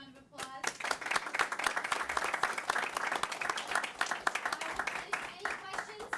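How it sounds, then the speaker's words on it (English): A large audience at a board of education meeting applauds loudly and steadily, dense clapping sustained throughout after a brief quiet start. "a huge round of applause"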